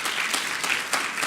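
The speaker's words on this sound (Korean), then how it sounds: "우리가 뜨거운 박수로 한번 격려하기 원합니다" Church congregation at a Sunday worship service applauding warmly, a steady dense clapping from a full room with a few louder swells, no voices over it.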